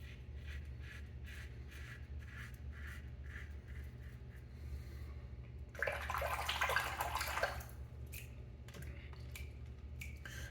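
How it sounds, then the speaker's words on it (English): A razor is dipped and swished in a bowl of ice water to rinse it, a burst of splashing that lasts about two seconds and stands out clearly over a steady low hum. "every time I rinse it, I'm just dipping it right back in the ice water"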